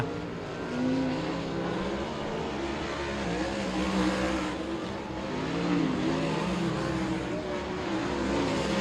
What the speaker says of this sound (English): Drivers on the warm-up lap now.